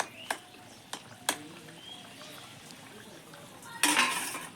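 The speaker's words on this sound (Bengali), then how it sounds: "এবার আমি ঢাকাটা খুলে দেখে নিই সেদ্ধ হয়েছে নাকি।" Lid of a cooking pot of boiled potato curry lifted and handled: three sharp metallic clanks, then a quieter pause and a burst of steamy hiss and rattle at the end.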